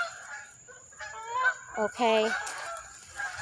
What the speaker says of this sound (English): Oh, you hear the geese flying over.